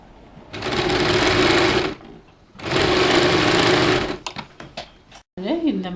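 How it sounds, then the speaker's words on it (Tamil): A sewing machine stitches piping onto a tulip-petal style sleeve in two loud, steady whirring bursts of about a second and a half each. Short clicks and handling noises follow, then a voice speaks briefly at the end. "அப்போ தான் 2 பக்கமும் இந்த பைப்பிங் அடிக்கும்போது கரெக்டாக கவனமாக வச்சு அடிச்சுக்கணும்."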